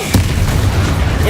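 A Confringo fire spell explodes in Hogwarts Legacy, a short loud booming blast with a low rumbling body that fills the clip.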